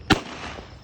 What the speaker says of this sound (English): we're gonna do woohoo is what this firework is called